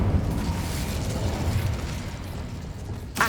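The Incendio fire spell is cast in the Hogwarts Legacy video game, a loud, sustained rumbling burst of flame and mechanical crackle lasting a few seconds, ending in a brief sharp hiss.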